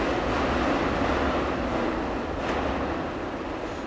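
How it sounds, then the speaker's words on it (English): Underground trains passing beneath Tokyo, heard through ventilation towers at street level, a steady broad rumbling roar that holds loud and fairly even before easing slightly toward the end. "the sounds of passing trains can be heard clearly"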